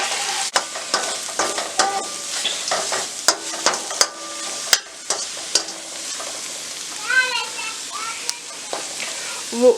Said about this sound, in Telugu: 1 స్పూన్ కారం, 1 స్పూన్ ధనియాల పొడి, 1 స్పూన్ గరం మసాలా వేసుకొని ఫ్రై చేసుకోవాలి.